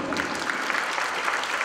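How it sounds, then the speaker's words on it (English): Conference audience applauding a presenter after a talk in Bali, a steady wash of clapping at moderate level throughout, with no distinct voices over it. "Once again, please big applause for him"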